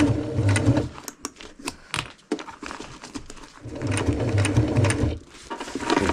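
A sewing machine stitches a seam on a tent in short, rapid bursts of mechanical whirring, separated by brief pauses and small clicks, heard close up with no talking.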